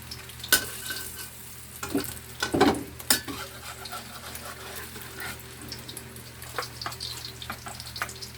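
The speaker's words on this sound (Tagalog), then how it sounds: "pag mainit na yung kawali, isasalang na natin yung mga patties." Burger patties frying in a hot pan for mushroom burger steak, a soft steady sizzle with a few louder clacks and thumps as they are placed and handled.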